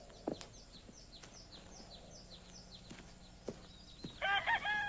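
Rooster crowing on a farm, a faint distant call with a short, louder squawking crow near the end, set against quiet background chirps and a few knocks.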